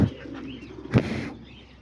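Pigeons being fed outdoors, with baby pigeons nearby, give a soft low coo and a brief muffled burst that may be wing flutter, close by with no talking.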